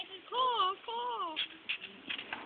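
A person imitates a bird's caw with a few drawn-out, wavering vocal calls, close and fairly loud, followed by softer chatter and shuffling noises.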